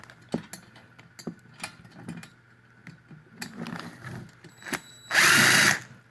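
A power drill removing screws from a TV gives a few soft clicks and handling taps, then a short, loud whirring burst near the end.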